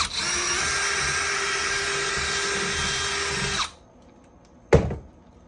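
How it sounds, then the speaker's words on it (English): A power drill bores a hole in a plastic dome light housing on a second-generation Toyota Tacoma, a steady loud whine running for several seconds before stopping abruptly, followed by one short sharp knock. "you are gonna wanna take your drill"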